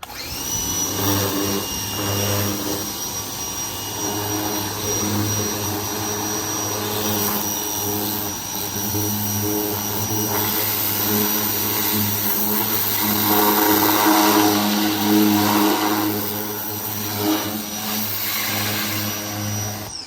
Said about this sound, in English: Let's see what happens after we use our RYOBI 1800 PSI electric washer on it.